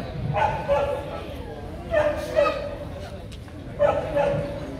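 A two-year-old H'Mông Cộc dog at a Vietnamese dog show lets out three separate sharp barks, evenly spaced and close by, while someone talks over them.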